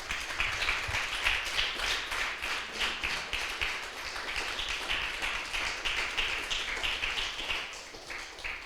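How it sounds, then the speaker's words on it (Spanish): A church congregation claps along in a fast, even rhythm, many hands striking together at a brisk pulse that holds steady throughout, fairly quiet and without voices. "Denle un fuerte aplauso al Señor, aleluya."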